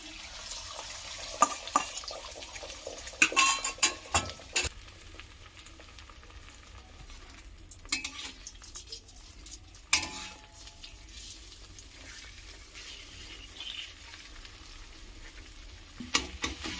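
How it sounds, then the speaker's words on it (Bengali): Beaten egg fries in hot white oil in a wok, giving a soft, steady sizzle punctuated by a few sharp clinks and scrapes of a spoon against the pan. "কড়াইটা গরম হয়ে গেছে এবার আমি দিয়ে দিচ্ছি সাদা তেল ডিমটা দিয়ে দিচ্ছি তেলের মধ্যে"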